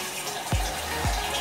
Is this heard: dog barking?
no